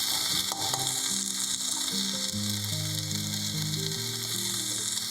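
Capsicum and paneer sizzle steadily in a frying pan while being stirred, a constant bright crackle with soft scraping underneath, close and continuous, with a faint tonal hum in the background.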